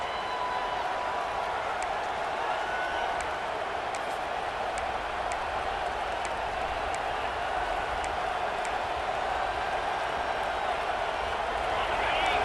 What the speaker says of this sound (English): wow, listen to this crowd noise. This stadium is vibrating.